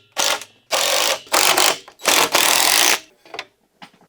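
A power drill drives Simpson 3-inch framing screws into wood during a pocket door installation, with several loud whirring bursts of about half a second each, then a few short tail-off pulses.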